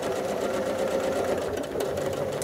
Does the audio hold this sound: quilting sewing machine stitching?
yes